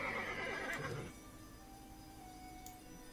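Horse neighing in the video game Runes of Magic, a loud whinny with hoof clops for about a second, then fading to quiet background ambience.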